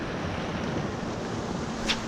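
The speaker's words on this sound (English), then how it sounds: "Just had another big set come in, really churning up the water" Waves churning the water during March bass fishing, a continuous wash of surf mixed with wind buffeting the microphone, steady and fairly loud with no voices.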